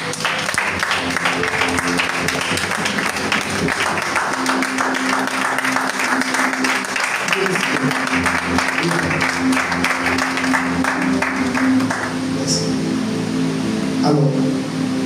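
A church congregation applauding, a loud sustained wash of many hands clapping together that fills the room, steady for most of its length before thinning near the end, with faint voices mixed in.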